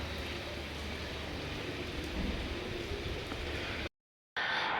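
Steady rain falling outdoors, a dense even hiss that holds for about four seconds, cuts briefly to silence, then resumes.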